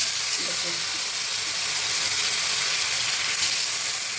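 Chana dal pieces fry in oil in a kadhai, giving a continuous close sizzle and hiss with a voice speaking over it.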